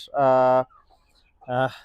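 Two loud, harmonic clucks or squawks from a laying hen nearby in an indoor coop, separated by a quiet pause.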